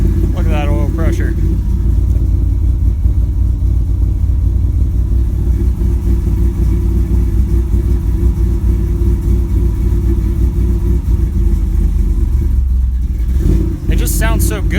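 Steady, loud idle from the exhaust of an Ott Motorsports 383 third-gen Camaro, a deep continuous rumble heard up close from inside the car, briefly dipping near the end.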